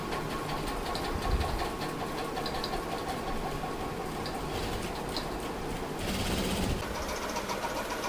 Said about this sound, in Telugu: ఒక టూ టైమ్స్ అయితే కుట్టుకోండి